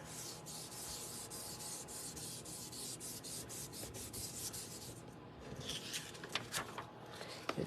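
Steady rubbing of a tool over a stamped card, a continuous dry scraping with rapid rhythmic strokes, close and fairly quiet, breaking into a few sharper scuffs near the end.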